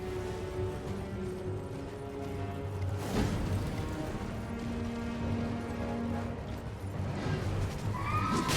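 A horse in the video game Elden Ring neighs, its whinny rising and falling over steady game ambience and rolling hoof noise, with a second shorter call near the end.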